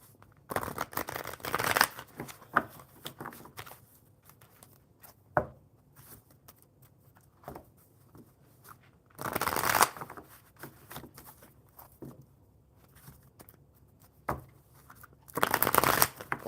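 Tarot cards are shuffled in several separate bursts of rapid riffling and flicking, close and crisp, with quieter handling and taps between bursts and no talk.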